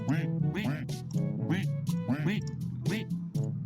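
Ducks quacking in the Unity game Ducksellate, a rapid, overlapping series of nasal cartoonish quacks, loud and close, repeating in quick bursts with no pause.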